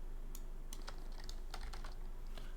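Quick, irregular clicking of keys on a computer keyboard in a quiet room, fairly faint under a steady low hum.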